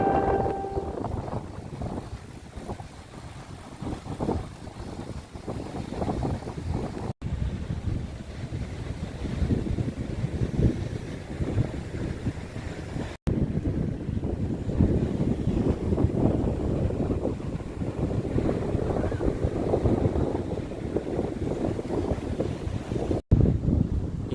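Strong wind in İnebolu, Turkey, buffets the microphone in continuous gusty roars, with a few sharp clicks breaking the steady blustery rush.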